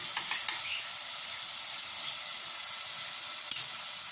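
Minced meat, tomato paste and butter sauté in a pan, giving a steady soft sizzle and hiss with a few faint stirring ticks throughout, no voices.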